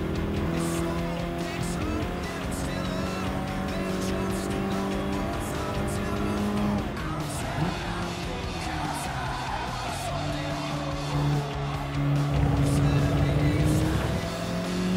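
Car engine in a racing video game at Brands Hatch, a steady revving drone with shifting harmonic tones as gears change, continuous and fairly loud, with brief tire squeal hints throughout.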